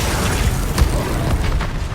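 A Confringo fire spell from the Hogwarts Legacy video game bursts with a dense, sustained booming blast, a sharper thump near the middle, and a continuous roar lasting the full two seconds.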